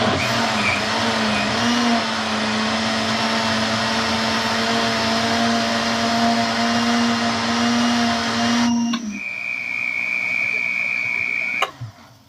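Blender running on its ice crush setting to puree pasta, a loud, steady high-pitched motor whir that cuts out abruptly, leaving a quieter hum before a final clunk.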